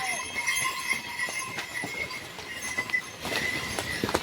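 Horses plod along the Kedarnath mountain trail with scattered, uneven hoof clops, mid-distance amid outdoor ambience and faint background noise.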